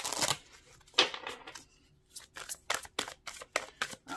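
A tarot card deck is shuffled up close in a series of quick, crisp riffles and slaps, irregular bursts separated by short gaps, with no talking.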